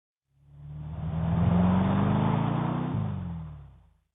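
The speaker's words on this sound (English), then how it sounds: "Here, a car drives along a street." A car drives along a street, its engine swelling from quiet to a steady hum with a rising pitch, then a gear shift and a fade as it moves away; no voices.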